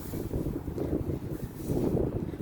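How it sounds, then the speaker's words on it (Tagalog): Steady cold winter wind blowing outdoors, a continuous low rumble buffeting the microphone with no voices. "Medyo malamig, mahangin dito sa labas."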